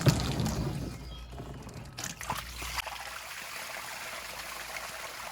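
Water siphons through a submerged hose draining a hot tub, a close gushing stream and trickle with splashes that start loud and settle into a quieter steady flow.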